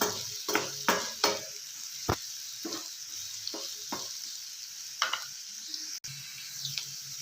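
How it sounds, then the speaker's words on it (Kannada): Chopped onions fry quietly in a pan for a cashew nut masala curry, with a soft background sizzle broken by a handful of sharp spatula scrapes and clinks as they are stirred. "ಇವಾಗ ಈರುಳ್ಳಿ ಚೆನ್ನಾಗಿ ಮೆತ್ತಗಾಗೋವರೆಗೆ ಹುರ್ಕೊಳ್ಳೋಣ"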